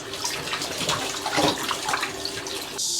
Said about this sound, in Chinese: 把这个鸡内部洗一下。